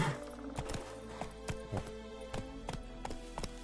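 Horse hooves clip-clop in The Witcher 3 video game, a steady walking rhythm of distinct hoof strikes over faint background music.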